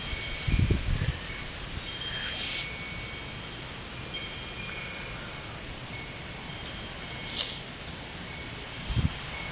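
A breeze through open windows stirs a huge bamboo tree, giving a steady soft rustle of leaves with a few brief low thumps near the start and end.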